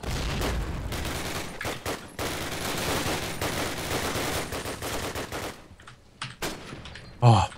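Rapid bursts of gunfire from a Call of Duty: United Offensive team deathmatch, dense automatic shots for about five seconds followed by a few scattered single shots and a sharp loud blast near the end.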